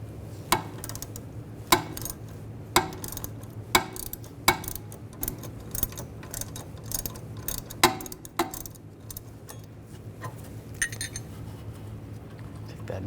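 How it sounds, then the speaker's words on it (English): Socket wrench working a nut off a control arm stud on a 2007-2013 BMW 328i, giving sharp metallic clicks in an uneven run of about a dozen, close and clear over low garage hum, with no talking. "then a 16mm socket. Take the nut off."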